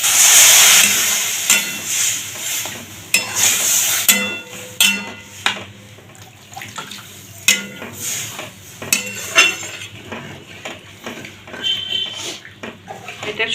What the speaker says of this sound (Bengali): এবার আমি এখানে ডালটা ঢেলে দেবো। একটুখানি নাড়াচাড়া করে নিয়ে এখানে জল দিয়ে দেবো।